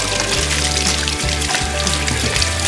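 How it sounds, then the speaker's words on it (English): Cold water runs steadily from a kitchen tap over hands before rubbing butter and lard into flour for pastry, a loud continuous close splashing hiss with no talk. "if your hands are warm, run them under some cold water"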